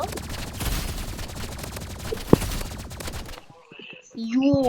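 Rapid blast rifle fire in a Roblox match, a dense burst of loud synthetic shots with one sharp crack partway, then breaking off into quieter game tones and short effects.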